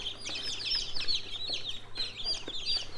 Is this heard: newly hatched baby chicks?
yes